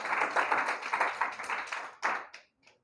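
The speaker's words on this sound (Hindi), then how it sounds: "अपने लिए ताली बजाओ, शानदार" Audience members clap for themselves after a discussion session on reservation, a brisk burst of many hands clapping close by that swells, then thins out and stops with a few last claps.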